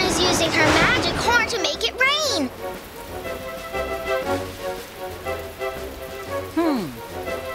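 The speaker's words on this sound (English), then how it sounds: "Using her magic horn to make it rain." Cartoon rain conjured by a unicorn's magic horn patters steadily, accompanied by bright whistling slide effects and light music, with sparkling swoops rising and falling over the shower.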